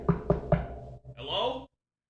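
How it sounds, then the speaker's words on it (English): Three quick firm knocks rap on a door, close and evenly spaced, followed by a brief bright sound effect. "Suddenly, a knock is heard on the door."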